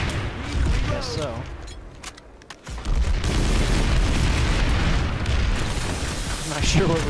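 Heavy gunfire and booming blasts from a turret fight in the video game Planetside 2 fill the scene almost continuously, dipping briefly before surging loud again, with someone talking over the battle.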